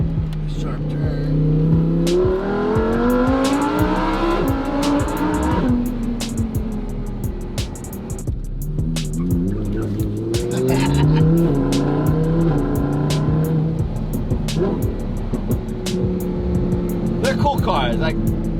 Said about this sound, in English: The sound is great where the exhaust exits.